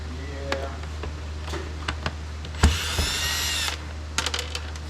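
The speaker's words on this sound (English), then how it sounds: "See if we can get all these screws out." A power drill backs screws out of a Yamaha digital drum kit in one loud, close whirring burst of about a second, surrounded by scattered clicks and handling knocks over a steady low hum.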